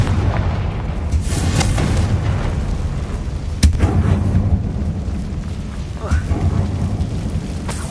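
A Confringo fire spell goes off in the Hogwarts Legacy video game, a deep rumbling blast with a sharp crack partway through, rolling over a low ambient game soundscape.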